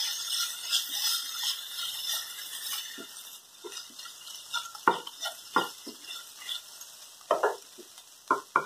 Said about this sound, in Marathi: तिखट मीठ आणि धना जिरे पावडर गॅस बारीक करूनच भाजा